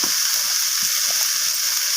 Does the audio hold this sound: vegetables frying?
yes